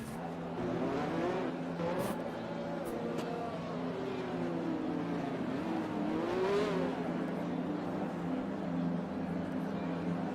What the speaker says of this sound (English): we see the final car coming across the last turn